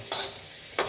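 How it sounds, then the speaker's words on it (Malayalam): Tomato and bitter gourd fry being stirred in a pan, two short scraping strokes with a soft sizzle continuing between them, close and fairly quiet. "ഉപ്പ് ചേർത്ത് നന്നായിട്ട് ഇളക്കി കൊടുക്കാം."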